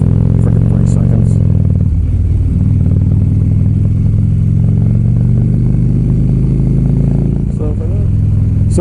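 Engine of a 2015 Triumph Street Triple motorcycle idling steadily up close, a loud continuous low rumble with a brief rev blip, with a voice speaking over it.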